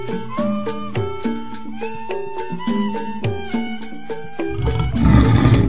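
A cartoon tiger roars in a children's ondel-ondel Betawi animation, a loud broadband burst near the end that cuts in over a bright, steady musical backing.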